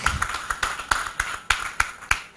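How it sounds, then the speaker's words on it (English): Sparse, rhythmic clapping at an NGO awards gathering, a few distinct hand claps repeating at a steady beat roughly three per second, fairly close and moderate in volume, with no talking. "A big round of applause to Frederick."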